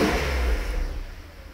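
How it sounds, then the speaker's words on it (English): A Mercedes SL600 with a leaking exhaust revs close by, a loud rushing engine roar that slowly fades over a second or so, with a breathy blowing hiss mixed into the tone. "you can hear the exhaust blowing by"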